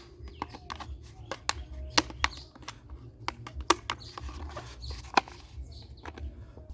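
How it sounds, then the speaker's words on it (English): A plastic plant pot is cut open along its side for air layering a lemon tree, heard as sharp, irregular close clicks and snips over a faint low hum. "then you cut it open along the side"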